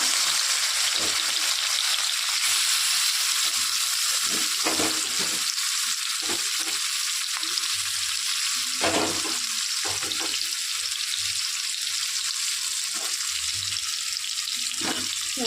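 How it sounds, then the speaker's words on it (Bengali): Marinated fish frying in hot oil in a wok gives a steady, loud, bright sizzle, with scattered soft knocks and scrapes of a utensil breaking through now and then; no voices. "এক পিঠটা আস্তে আস্তে চার পাঁচ মিনিট ভাজা হোক"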